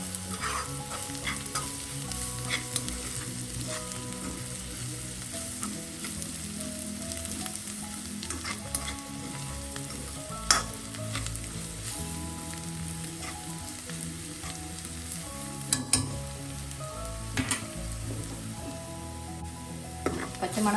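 Masala spices, chilli and pepper powders, frying in a pan while being mixed for a red cowpea stir-fry, with a steady sizzle and continuous scraping of the spoon against the pan for a long stretch, with no speech.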